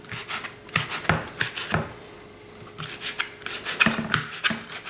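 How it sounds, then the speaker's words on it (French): A knife slices salmon finely on a board, making a series of short, close scraping strokes in uneven bursts, with a quiet pause in the middle before the cutting resumes. "je vais couper le saumon très finement"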